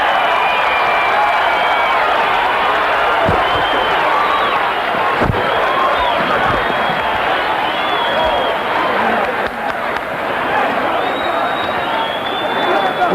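A big arena crowd roars and cheers at the close of the Larry Holmes vs Michael Spinks heavyweight championship boxing bout, a dense, loud, sustained wall of voices with scattered claps and shouts throughout.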